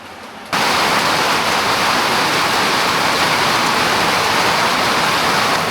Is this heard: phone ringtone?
no